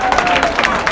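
Crowd applause welcoming a guest to the stage at a stage event, loud dense clapping that fills the whole moment, with a voice faintly underneath.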